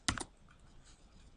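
A couple of quick keystrokes on a computer keyboard, close and crisp, followed by quiet room tone.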